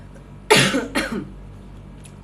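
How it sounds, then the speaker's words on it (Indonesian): A person coughs twice in quick succession, close and fairly loud, with a strong first burst and a shorter second one, then quiet. "aku masih batuk, nggak hilang batukku dah"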